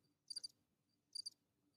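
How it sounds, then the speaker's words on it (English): Crickets chirping in two short, bright bursts about a second apart, faint against a quiet low background hum. "Sound like a bunch of damn crickets."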